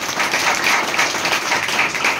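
A church congregation claps loudly in a dense, continuous burst of many hands, filling the room evenly from start to finish.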